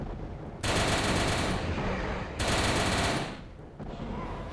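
A custom seventh weapon from a Doom weapons pack fires in two long, loud automatic bursts, then a shorter burst near the end, each a dense rapid roar with a brief lull between them.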